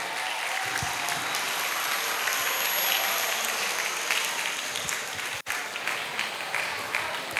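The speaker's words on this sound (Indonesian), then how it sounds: "mari kita beri tepuk tangan pada calon ketua-ketua ISMI di depan kita" An audience at an interactive dialogue event applauds chair candidates, a broad, steady clapping from a crowd that holds for several seconds with a brief dip partway through, faint murmurs mixed in.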